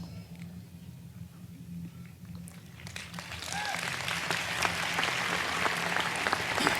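Audience applause at Steve Jobs' Stanford University commencement address, starting as a faint murmur with a low hum and swelling after about three seconds into a broad, sustained wash of clapping from a large outdoor crowd.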